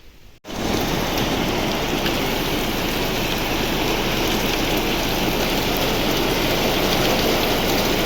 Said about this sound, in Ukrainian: Оце в нас дощ пустився